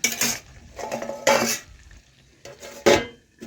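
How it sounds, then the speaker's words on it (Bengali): Metal clatter of a lid set over a pan of shrimp and young bottle gourd, a few sharp clanks and rattles with quiet gaps between, close and fairly loud. "এখন আমি আবারও পাঁচ থেকে দশ সেকেন্ড মতো ঢাকা দিয়ে দেব"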